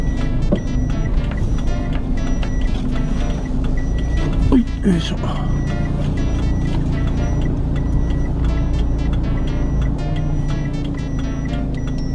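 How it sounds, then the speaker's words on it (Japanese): A car slowly pulls into a parking lot, its engine running steadily close by with a brief beeping partway through, while a person speaks a few short words. "車を駐車場に入れて"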